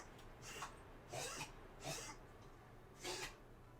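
Four short, breathy sneeze-like bursts from a dog, spaced about a second apart, fairly quiet and close against a low background hum.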